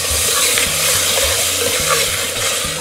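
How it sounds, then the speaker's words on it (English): Steady, loud sizzling and bubbling from tinned tomato cooking in a hot pan for a lamb curry, with a low background hum and faint stirring. "Ooh, listen to that sizzle."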